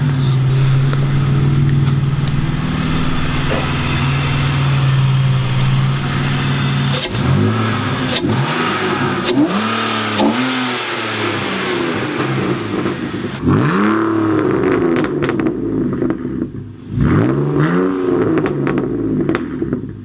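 A BMW E46 engine with a carbon fiber intake revs repeatedly, rising and falling in pitch with throaty intake and exhaust roar, close by and loud, with no talking.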